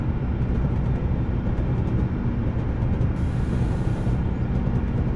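A Class 55 diesel locomotive runs in the Train Simulator 2017 game on the Weardale and Teesdale line, a continuous loud low engine drone and rumble with steady rail noise, unbroken and close throughout.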